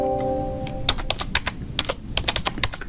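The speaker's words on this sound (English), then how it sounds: "You'll type in your college ID number" Typing on a computer keyboard: a quick run of crisp, close key clicks in an irregular rhythm, with a brief tonal beep at the start and no talking.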